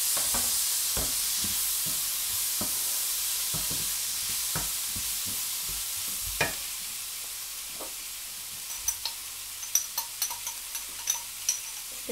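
Prawn masala fries on a tawa with a steady soft sizzle, joined by scattered small ticks and taps of a utensil that grow more frequent toward the end.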